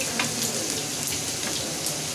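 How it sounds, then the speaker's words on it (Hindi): Fish frying in a pan of oil for a fish curry, a steady close crackling sizzle that runs evenly throughout with no voices over it. "मछली फ्राई हो रही है"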